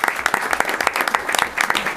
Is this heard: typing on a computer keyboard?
no